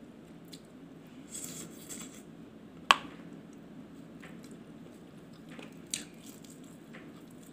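Biting into very crispy fried food in a quiet room, with a couple of sharp, distinct crunches standing out between softer chewing sounds.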